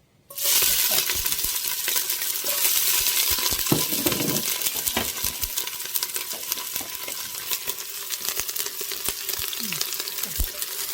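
Starch-coated ingredients stir-frying in hot oil in a wok give a loud, steady sizzle. Scattered clinks and scrapes of the utensil against the pan sound throughout.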